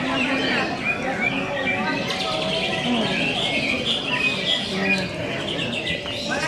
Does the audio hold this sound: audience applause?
no